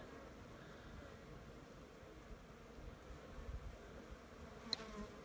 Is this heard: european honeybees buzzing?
yes